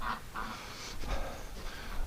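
Ducks quack near a building at dusk in winter, a steady run of nasal calls at moderate distance over a continuous background hiss.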